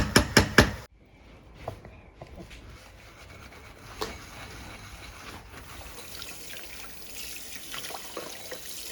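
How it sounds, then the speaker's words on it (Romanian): Dishes are washed under a running tap in a cramped home kitchen. A few quick clatters of crockery come first, then a steady close wash of flowing water with faint clinks. "cineva spală vasele"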